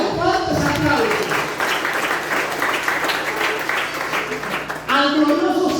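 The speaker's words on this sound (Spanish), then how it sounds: "A nuestra Madre Santísima, la Virgen María, fuertes aplausos." A church congregation applauds loudly during a Spanish-language service in honour of the Virgin Mary, sustained clapping filling several seconds, with a voice speaking over the start and end.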